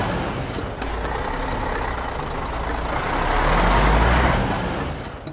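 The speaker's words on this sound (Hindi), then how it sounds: "इतने में एक ट्रक एक इलेक्ट्रिक फिशिंग बोट को उधर लेकर आया।" A truck hauling an electric fishing boat rumbles along steadily, its engine noise swelling louder as it draws near before easing slightly.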